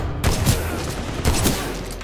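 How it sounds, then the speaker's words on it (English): The Mastiff shotgun from a first-person shooter fires twice, about a second apart, each blast a loud booming crack that fades into a short echoing tail. "I always laugh when I first fire the Mastiff"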